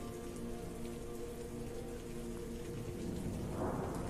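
Steady rain falls in a soft, continuous wash with a faint low rumble like distant thunder underneath, fairly quiet and unbroken throughout.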